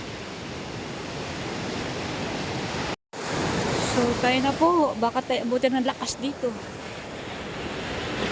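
Storm-driven sea waves during a typhoon roar in a steady, rushing wash mixed with gusting wind, broken by a brief cut, while someone talks close by over the surf.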